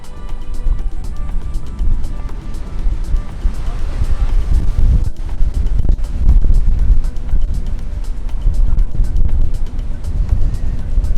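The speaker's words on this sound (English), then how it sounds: "It's super windy now." Strong wind buffets the microphone with heavy low rumbling and gusts throughout, with voices faintly underneath.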